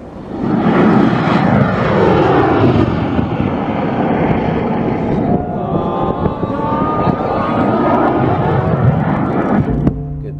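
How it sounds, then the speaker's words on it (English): Roar of a rocket launch on 3D printed rocket engines in the Mojave Desert, California: a loud, continuous broadband rumble that holds steady for about ten seconds with shifting tonal sweeps, then cuts off abruptly near the end. "This is a rocket launch that we did 18th of April 2015 in Mojave Desert in California."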